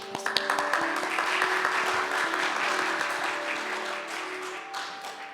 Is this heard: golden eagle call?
no